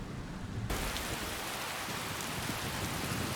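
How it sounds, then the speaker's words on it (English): Steady heavy rain hisses across the ground in Skyrim, beginning abruptly and filling everything evenly with a dense wash of drops, loud and continuous with no voices over it. "Oh, of course it's raining."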